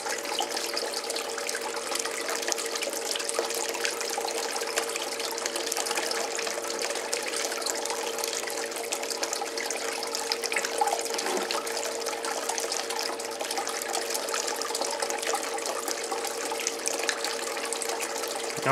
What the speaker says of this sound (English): The pump is pumping as much water as it can, or as much as it's made to